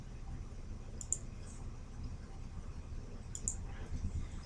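A computer mouse clicking during file uploads: two quick double clicks, sharp and close, over a faint steady room hum with no speech.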